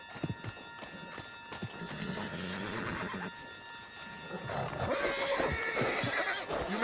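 Horse in Red Dead Redemption 2 whinnying and running with hoofbeats, a steady close rush of galloping under game ambience, with a brief voice at the start.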